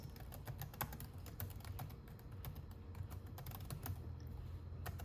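Steady, quick clicking of keys on a computer keyboard, faint and close, with an even rhythm of keystrokes and no talking.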